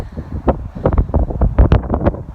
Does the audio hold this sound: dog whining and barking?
no